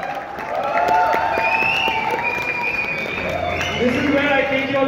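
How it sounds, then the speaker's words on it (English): Audience at a Lodha One Goa event in Delhi breaks into applause with cheering, a sustained wash of clapping and crowd noise that swells and holds, with a voice rising over it. "Big round of applause."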